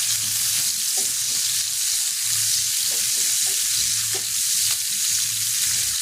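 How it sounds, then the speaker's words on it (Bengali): Green chillies and chopped onion fry in hot oil, a steady close sizzle with occasional stirring scrapes, no voices. "হালকা একটু ভাজা ভাজা হবে।"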